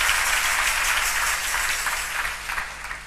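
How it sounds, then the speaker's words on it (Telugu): A church congregation applauds during a sermon, a dense, steady wash of clapping that holds for about three seconds and eases slightly toward the end. "వారిని బట్టి చప్పట్లు కొడదాం"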